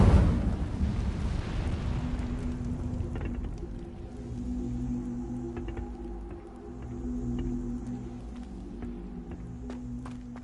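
An Incendio fire spell cast in Hogwarts Legacy bursts with a loud, roaring whoosh at the start, then fades into a lingering crackling rumble and low hum over ten seconds.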